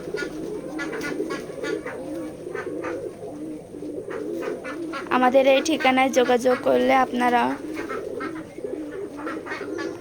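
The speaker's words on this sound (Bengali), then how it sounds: "আমাদের এই খামারে দেশি বিদেশি সকল ধরনের কবুতরের বাচ্চা পাওয়া যায়" Pigeons at a pigeon farm coo continuously in low rolling calls, with a louder burst of nearby cooing midway, while someone talks over them.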